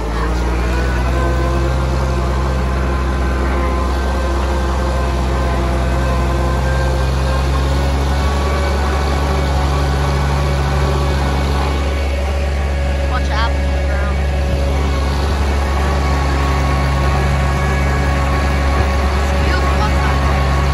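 Tractor engine running during a farm ride, a loud, steady low drone with a constant hum and faint mechanical rattle throughout, a voice faintly underneath.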